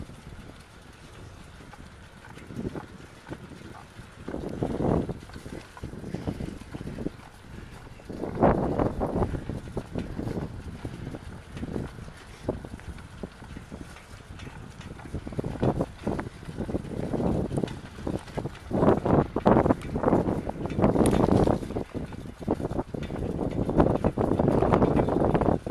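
Steady wind buffeting the microphone while riding a recumbent trike on a breezy spring day, loud and continuous throughout, with heavier low gusts and rumbles rising and falling.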